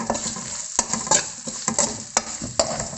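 Onions cooking in a little oil in a pan sizzle close by, broken by repeated scraping stirs from a utensil at an uneven rhythm.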